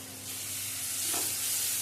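Ground cumin, turmeric and salt with a splash of water sizzle and get stirred in a pan for a Baim fish curry, a steady close frying hiss that swells slightly, no voices.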